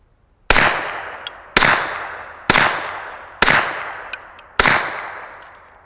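Five sharp, evenly spaced shots from a suppressed Glock pistol with a Wolfpack Armory Whisper Pickle suppressor, firing Callaway Ballistic 147 grain ammunition. Each crack is close and loud, then decays into a short ringing tail before the next.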